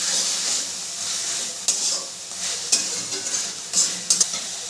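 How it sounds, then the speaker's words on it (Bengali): Masala with ginger and garlic sautés in a pan for egg korma, making a bright, continuous sizzle up close, broken by several sharp clicks and scrapes from a stirring spoon. "মশলাটাকে ভালো করে কষিয়ে নেব।"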